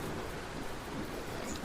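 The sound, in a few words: heavy rain during a storm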